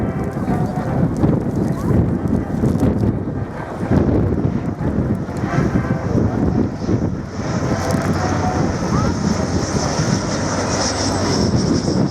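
A de Havilland Dragon Rapide biplane flies a display at the 2014 Shoreham Airshow, its piston engines giving a steady, moderately distant drone with gusts of wind buffeting the microphone.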